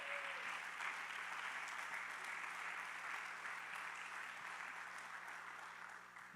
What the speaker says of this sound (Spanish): Dale un fuerte aplauso a Dios en su casa.